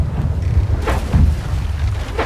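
Pirate-ship cannons in Blackwake boom in succession, a deep rumbling bombardment of several heavy thuds with low-end roar, loud and close, firing down a row of guns on the lower decks.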